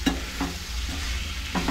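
Chana dal vegetable being sautéed in a pan, with a spatula scraping and stirring in a few distinct strokes over a steady low sizzle, close and moderately loud, with no voices.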